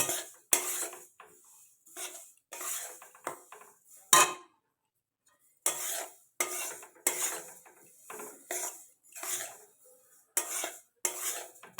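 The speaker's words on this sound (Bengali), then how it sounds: "তিলটাকে সুন্দর করে ভেজে নিতে হবে। আমি অনর্গল এখন নাড়তে থাকবো।" A utensil stirs sesame seeds roasting in a pan, making close, intermittent scraping and rattling strokes in short bursts, with one brief silent gap partway through.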